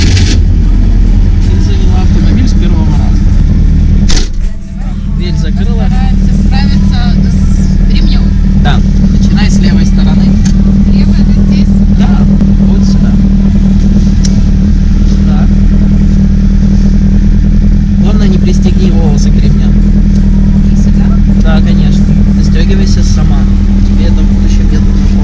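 A Zhiguli VAZ 2101 car engine runs with a steady, loud, close-up mechanical drone, with a brief dip early on and clattering overtones throughout.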